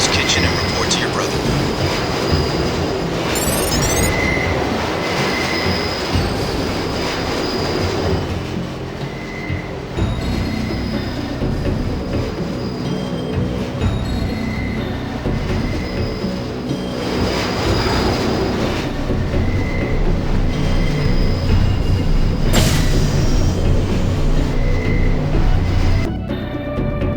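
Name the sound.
subway train ride in Deus Ex video game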